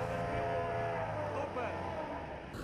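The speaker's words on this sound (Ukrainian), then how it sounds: "Спершу рятувальники відпрацьовують порятунок людини за допомогою катера на повітряній подушці" A rescue hovercraft's engine droning steadily on ice during a rescue drill, a loud continuous roar with tonal whine and slight pitch wavering.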